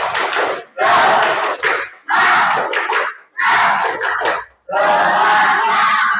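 A classroom of schoolchildren doing a rhythmic clapping cheer, several loud bursts of claps and shouting voices in quick succession, close and energetic.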